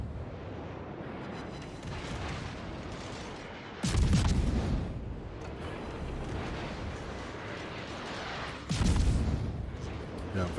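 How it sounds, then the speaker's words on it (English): Heavy naval gunfire in a warship battle game, aimed at the destroyer Khabarovsk, booms in two loud salvos over a steady rumble of ongoing fire, with speech also present. "All that gunfire that you see sailing over Lynn's head here is focus fire on me"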